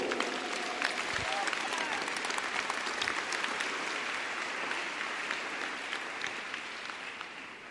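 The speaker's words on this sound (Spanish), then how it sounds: "Dale un aplauso a Jesús." Sustained applause from a church congregation during a sermon on Jesus, steady dense clapping filling the room at moderate level, with some vocal noise mixed in and a gentle fade toward the end.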